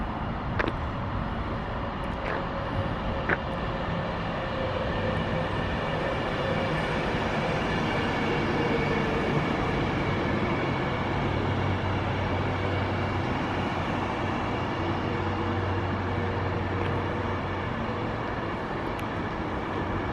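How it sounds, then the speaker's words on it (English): A Pendolino passenger train runs through Clapham Junction station toward London Euston, a steady rumbling roll with rail clatter lasting the whole stretch, heard from the platform at moderate distance. "We've got a Pendolino coming up, I think."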